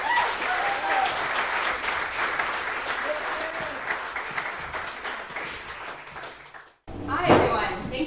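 An audience at a community speaker series applauds steadily to welcome the speaker, a dense, even clapping that fades and stops before a brief pause.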